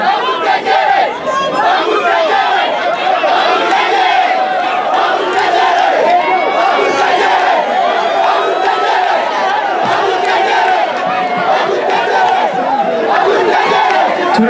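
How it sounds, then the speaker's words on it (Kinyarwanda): A large concert crowd in Rubavu, Rwanda, with loud, continuous cheering, shouting and clapping that fills the whole stretch. The dense roar of voices never drops away. "turamutegera mu amashyi menshi cyane"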